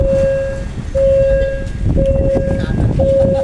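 A railway level crossing barrier at U Thong, Thailand, sounds its repeating alarm tone in steady evenly spaced beeps over a rumbling background, with a voice talking beneath it.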